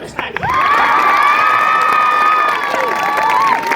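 Audience at a street-drama performance for Bagmati river conservation cheering and shouting loudly, with children's voices rising in a sustained, close roar that swells and holds for a few seconds.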